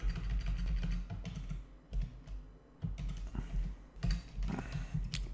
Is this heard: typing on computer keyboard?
yes